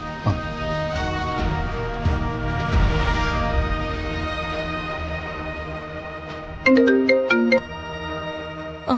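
A phone rings after a call is placed, a repeating electronic ringtone tune that plays clearly over a soft musical bed, louder in a short burst near the end.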